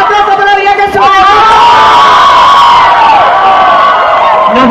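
A Madrid crowd at a live show with a performer cheers, shouts and whoops loudly under a booming voice, with the noise swelling then staying dense and close.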